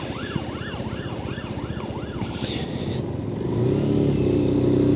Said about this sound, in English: Oh, we have an ambulance coming in.